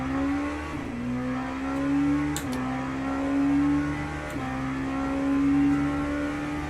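An LMP2 prototype race car engine in the sim racing game Le Mans Ultimate holds a high, steady whine that climbs through the gears with brief drops at each upshift, loud and continuous with no speech.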